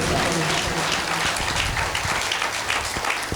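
A church congregation at a Christmas worship service claps loudly and steadily, a dense wash of applause that fills the whole stretch without a break.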